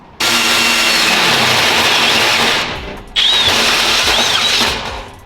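A DeWalt-bit power drill runs loud and close in two long bursts, with a short pause between them as the motor briefly stops and restarts.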